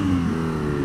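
A Triumph motorcycle's boxer engine pulls under power while riding, giving a close, steady mid-pitched engine drone that holds even throughout the short stretch.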